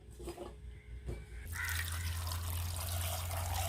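Water pours into a pot of tapioca, a quiet clatter at first giving way to a steady, close splashing stream that continues to the end.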